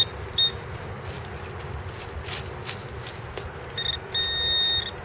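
A metal detector swept over a coin in the woods gives a short electronic beep, then a steady sustained tone near the end, over faint rustling footsteps and outdoor background noise.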